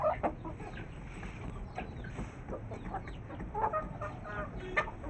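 A hen clucks softly a few times over a low, steady background rumble, with faint scattered chirps.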